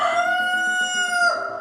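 A rooster about a year old, found loose in a city, crows in a long sustained call with a quick drop at the end, close and loud with no talk over it.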